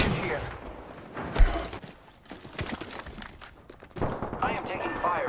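Gunfire in Apex Legends, played as Bloodhound: bursts of rapid shots and impacts come in clusters, with a heavier thump near the start, under a character's voice speaking through much of it.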